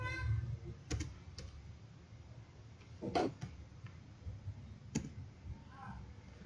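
Typing on a computer keyboard while writing code, with sparse quiet key clicks and a few firmer taps like the enter key, recorded close and faint with a little low room noise.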